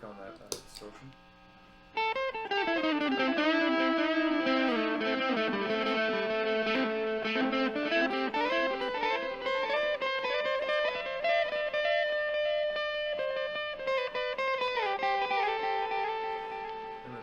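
Electric guitar played through heavy distortion and a Guyatone MDM5 Micro Delay pedal, a quiet clean lick first, then a loud sustained overdriven passage with bending notes and echo trailing throughout.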